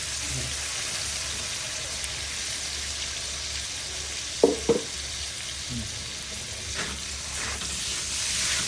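Onions frying in a pan for pakbet, a steady soft sizzle throughout with a few brief clatters of stirring, fairly quiet and close.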